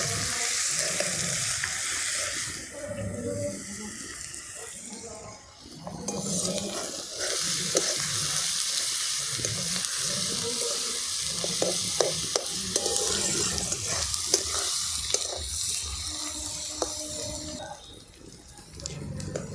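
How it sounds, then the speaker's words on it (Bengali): Garlic paste frying with onions already browned in oil for a mutton curry, a loud continuous sizzle with spoon scrapes and stirring clatter throughout, briefly easing off mid-way. "এরপর আমি এর সঙ্গে 3 চামচ রসুন বাটা মিশিয়ে দিলাম। একেও ভালো করে ভেজে নিতে হবে।"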